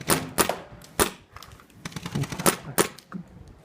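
A DG/E1 paintball gun firing after running out of paint gives sharp, dry, hollow clacks, seven or so spaced irregularly, close and loud with no talk over them.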